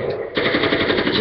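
Gunfire from a video game's tactical shooter mode rings out in a rapid automatic burst of close, loud shots lasting about a second.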